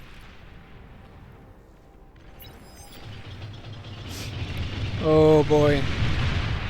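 Bombing run explosions in the strategy video game Beyond All Reason: a rumbling barrage builds from about three seconds and peaks near five seconds, while someone briefly speaks over it.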